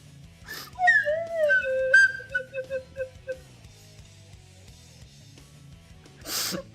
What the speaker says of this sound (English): Where's my slide whistle?